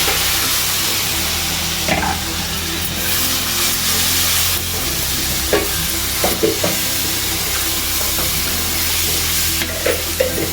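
Boiled cluster beans fry in a pan with chilli powder and turmeric, a continuous close sizzle broken by occasional scraping clicks of a spoon stirring, with no talk.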